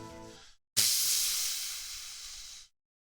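A voice imitates a steam hiss: after a short vocal sound and a brief pause, a loud, steady breathy hiss comes close up for about two seconds, then stops abruptly.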